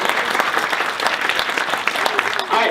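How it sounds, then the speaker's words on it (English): An audience at an EdTech ToolSlam event applauds, a steady, dense round of clapping from many hands sustained loudly throughout. "Give everyone a big round of applause."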